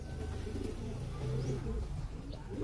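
Pigeons cooing softly in a loft, low murmuring coos repeating over a few seconds with faint background noise and no talking.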